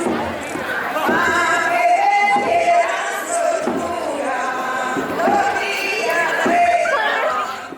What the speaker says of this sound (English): I could suddenly hear drums somewhere in the city.